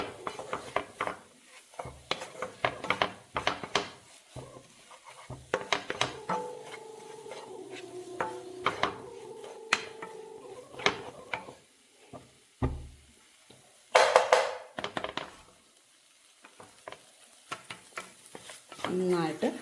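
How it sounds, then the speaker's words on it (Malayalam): A utensil scraping and clinking against a pan while scrambled egg is stirred with masala, irregular close clatters and taps, with stretches of talking over the stirring and a louder burst of scraping partway through. "എന്നിട്ട് നമുക്ക് ഈ മസാലയായിട്ട് അങ്ങോട്ട് മിക്സ് ചെയ്യാം."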